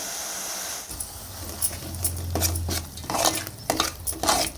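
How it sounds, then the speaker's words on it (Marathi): Mutton rassa masala being sautéed in a pot, with a spoon scraping and stirring through the spices in a run of uneven, close metallic scrapes and knocks, no voices. "आता छान परतून घ्यायचं असं।"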